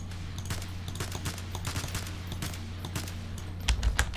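Rapid gunfire from a customizable weapon in Garry's Mod, a dense stream of sharp shots running throughout at steady loudness, with a heavier burst near the end.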